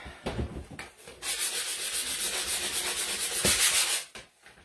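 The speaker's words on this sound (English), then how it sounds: "get a sanding block that's not got so much white on it" A sanding block scrapes back and forth across painted wood in a few quick, close strokes, with short pauses at the start and end.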